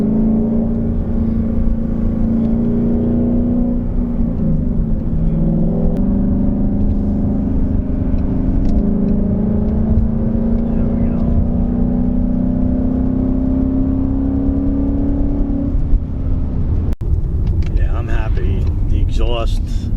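A 2019 Ford Mustang GT with GT500-inspired modifications and an aftermarket exhaust drones steadily at low pitch, the note rising slowly as it builds. Voices murmur faintly underneath.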